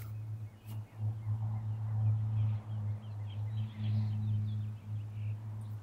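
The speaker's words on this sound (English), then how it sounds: "There's a truck." A truck passes outdoors with a loud, steady low engine drone that swells and dips over several seconds, with faint background noise and no talking.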